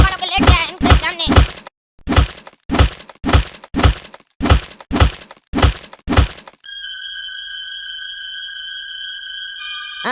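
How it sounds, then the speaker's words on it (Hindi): Repeated hard blows land in a beating scene, about ten thuds in quick clusters and then a steady pattern of paired knocks. The impacts are loud and close and end abruptly, followed by a sustained electronic tone. "अब इतना भी मत मारो कि लेट जाए इनके सामने।"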